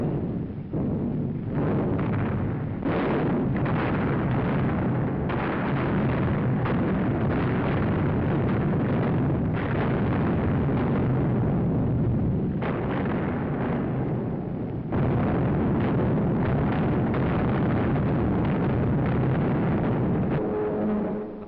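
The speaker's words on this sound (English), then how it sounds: "Day bombers blast coastal installations, continuing the heavy attacks of the night before." Day bombers blasting coastal installations, heavy explosions rolling continuously and loudly in a dense, sustained roar with repeated bursts throughout, no voices over it.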